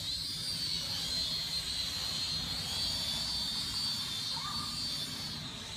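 A small toy quadcopter drone hovers outdoors in wind, its rotors giving a steady high-pitched whine with a constant buzzing drone throughout, close and fairly loud.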